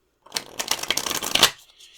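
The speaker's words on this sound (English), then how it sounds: "and give it a good shuffle." Tarot cards shuffled by hand in a quick riffle of dense papery flutters lasting about a second, close and alone with no talking.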